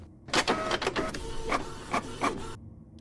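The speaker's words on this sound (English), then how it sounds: "Insert folders into printer." In a horror video game level, a printer runs loud and close, whirring mechanically with a rhythmic series of feed clunks for about two seconds before it stops abruptly.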